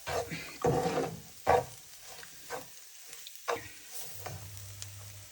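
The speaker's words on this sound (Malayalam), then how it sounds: "ഇതെല്ലാം കൂടെ ഒന്നുകൂടി ഒന്ന് ഇളക്കി ചൂടാക്കുക" Spices with dry ginger powder stirred and heated in a pan for a chicken curry: soft, irregular scrapes and brief sizzling bursts between quiet gaps, close and fairly faint, with no talking.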